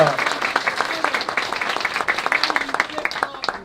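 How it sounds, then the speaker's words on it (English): Applause from a crowd at a political event in Bonham, Texas, brisk overlapping claps rising and falling for a few seconds, fairly close. "Can we have a round of applause for everybody who's willing to do this hard work?"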